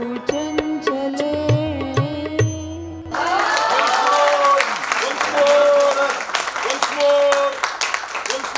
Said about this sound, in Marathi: वन्स मोर साठी जोरदार टाळ्या जरा वाजू देत एक मिनिटभर